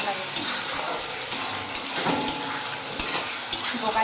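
Khichdi with local chicken cooks in a pot while a spoon stirs it repeatedly, leaving soft scraping knocks every half second or so over a low, continuous sizzle.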